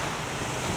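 Sea waves wash along the shore beside an old municipal hall in Sorsogon, a steady close surf roar mixed with wind buffeting the microphone, with no voices.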